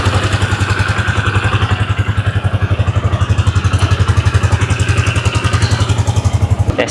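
A Yamaha Sniper 155 motorcycle idles close by in neutral, a steady, even single-cylinder thumping that holds for several seconds with no talk over it.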